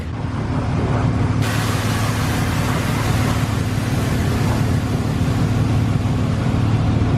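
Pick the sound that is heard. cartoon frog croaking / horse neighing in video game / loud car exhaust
loud car exhaust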